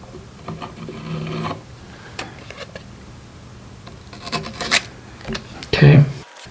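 An Afflictor K2 Mini broadhead arrow is stroked across a surface in a series of short, close rasping rubs separated by quiet gaps, the last strokes the loudest.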